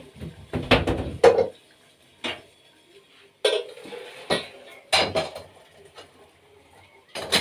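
A metal teapot and dishes clatter in short bursts with pauses between, close by, with no talking.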